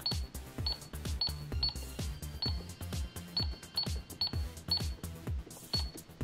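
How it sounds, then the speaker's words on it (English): A McDonald's toy cash register beeps and chimes as its buttons are pressed, giving a series of short, evenly spaced electronic tones with recorded menu sounds, close and fairly quiet. "if you turn on your cash register, you can press these buttons to hear the menu selection"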